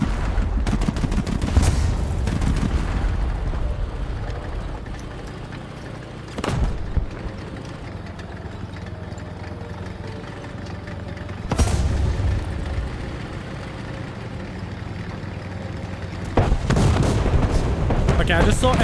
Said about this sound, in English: I just saw enemy gunfire to your left